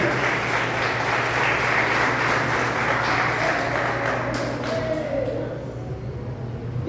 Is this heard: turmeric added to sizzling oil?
no